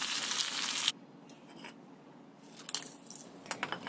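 Rui fish frying over low heat in oil, a loud steady sizzle for the first second dropping to a quieter crackle with scattered pops and faint scraping afterward.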